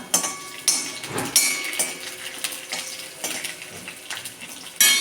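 Chopped green chillies go into a pan where garlic has been frying until brownish for broccoli Manchurian, bringing soft sizzling with sharp clinks and scrapes of a utensil against the pan at irregular intervals.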